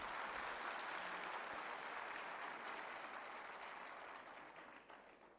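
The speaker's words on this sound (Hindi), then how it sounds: "तालियों की गड़गड़ाहट से हम स्वागत करें।" At a statue unveiling ceremony, a large audience gives steady applause, a faint, distant wash of clapping that slowly fades over several seconds.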